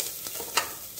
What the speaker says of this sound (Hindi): अब हरा मिर्चा डाल रहे हैं, ये हरा मिर्चा पड़ा